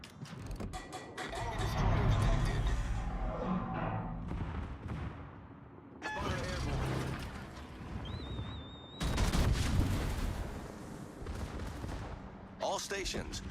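Warship guns firing in World of Warships during a naval battle involving the Bismarck, Prince of Wales and Amalfi: loud booming salvos in bursts amid rumbling battle noise, with a voice talking over parts.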